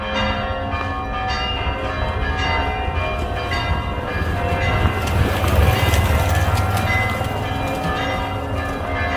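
Several church bells ring together at noon in Tiradentes, Brazil, a dense, loud and continuous clangor of overlapping peals with sustained ringing tones, no voices heard.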